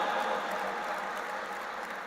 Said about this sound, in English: Let's give a big round of applause, my friends, for the concept and creation of world's largest dome